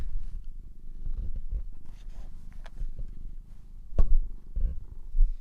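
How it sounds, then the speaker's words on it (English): A pet cat purrs in a low, steady rumble through the whole stretch, with a few brief clicks and louder bumps near the end, close and fairly clear with no talking. "Can you just purr for everyone,"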